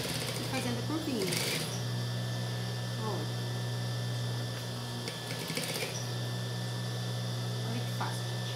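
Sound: sewing machine stitching a seam

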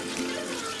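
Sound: water being poured onto rice for biryani

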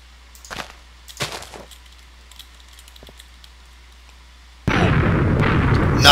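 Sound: explosion from bombing in Minecraft video game

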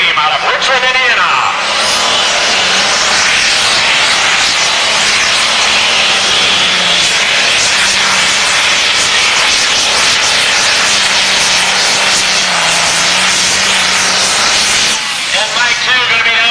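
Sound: John Deere pulling tractor engine roaring at tractor pull

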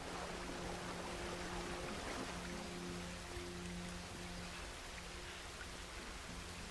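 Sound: rain in the video game Red Dead Redemption 2

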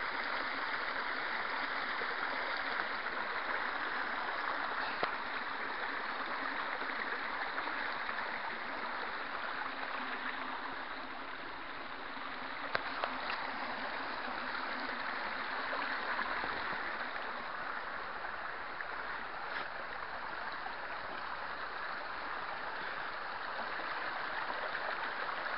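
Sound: waterfall flowing down through trees over sandstone

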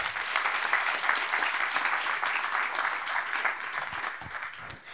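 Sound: audience applause at a seminar

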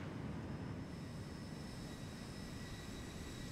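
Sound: Boeing 737 airliner engine in flight simulator video game (Zibo)

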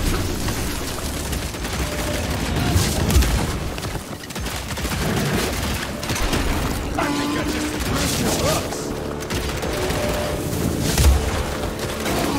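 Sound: shotgun firing in video game Evil West

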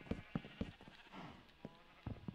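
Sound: sheep bleating in the video game Minecraft

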